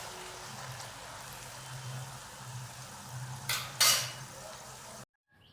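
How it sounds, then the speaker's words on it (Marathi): Savoury shankarpali pieces deep-fry in hot oil, a soft continuous bubbling sizzle with a couple of brief louder scraping stirs near the end before it cuts off. "थोडंसं लालसर होतोपर्यंत तळून घ्यायचं"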